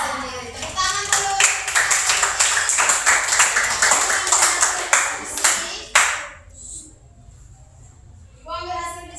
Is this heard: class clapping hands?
yes